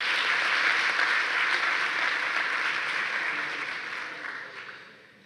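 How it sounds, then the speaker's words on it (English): An audience claps warmly at a university launch event, a dense burst of applause that gradually thins and fades over about five seconds. "Can we give her another warm hand of applause?"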